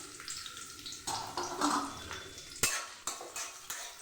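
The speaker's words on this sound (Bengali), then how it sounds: "প্রথমে পেঁয়াজটাকে লাল করে ভেজে নেব।" Chopped onion going into hot ghee in a kadai, a soft sizzle broken by spatula scrapes and metal clinks against the pan, fairly quiet and close.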